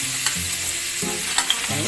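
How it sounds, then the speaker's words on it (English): Pork chop searing in olive oil and butter in a hot pan, a loud, steady, close sizzle with brief stirring scrapes and faint pops throughout. "You see the olive oil and the butter in there soaking into the pork chop."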